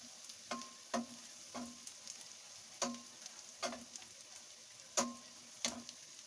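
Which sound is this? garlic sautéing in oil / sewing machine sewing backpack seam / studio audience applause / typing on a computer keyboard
garlic sautéing in oil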